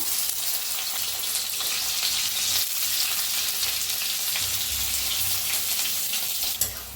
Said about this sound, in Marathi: तेल तापले या त्याच्यात टाकूया कांदा